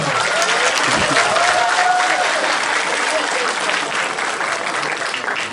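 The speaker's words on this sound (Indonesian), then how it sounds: "Tepuk tangan dulu." Audience applause at a school Isra' Mikraj gathering, sustained loud clapping from a large crowd, steady throughout with faint voices mixed in.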